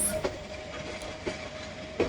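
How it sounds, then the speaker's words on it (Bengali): A Bangladesh Railway 1400 horsepower metre-gauge diesel locomotive, class 2600 number 2614, passes with rhythmic clickety-clack wheel beats on the rails at regular intervals over a steady rumble. "1400 হর্স পাওয়ারের লোকোমোটিভ, লিটার গেজ লোকোমোটিভ।"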